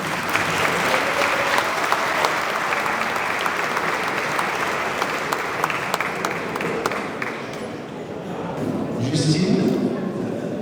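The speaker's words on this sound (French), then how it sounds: "je vous demande d'applaudir Justine Yabas et Karine Yacob" Audience at a French entrepreneurs' dinner applauds two chartered accountants as they are introduced, loud sustained clapping filling the room for about seven seconds before fading into murmurs and a brief voice.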